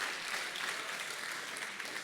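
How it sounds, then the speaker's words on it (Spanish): A church congregation claps together in steady, dense applause that stays even and moderately loud throughout, with no voices standing out. "Denle una ofrenda de palmas."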